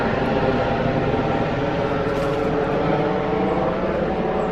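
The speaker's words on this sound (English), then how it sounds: "I have a feeling there's a helicopter flying over somewhere." A low, steady rumble of a helicopter flying low overhead near an abandoned pump station, continuous and fairly loud throughout, with no voices.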